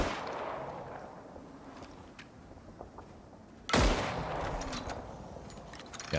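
A single sharp, loud gunshot in the survival game Icarus cracks out partway through, standing out from a low, busy background of quieter game noise.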